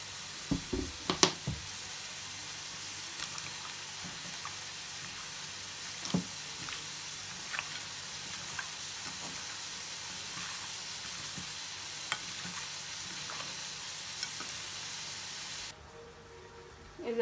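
Meat cooks in a pan with turmeric, bay leaf and oil, giving off a steady soft sizzle with a few faint clicks and scrapes. It stays close but quiet throughout and ends abruptly.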